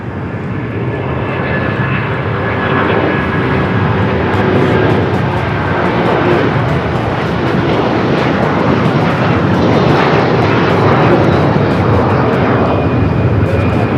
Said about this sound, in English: That was Avianca Cargo in the green livery, flight 7081, taking off to Guadalajara on the A330-300 converted freighter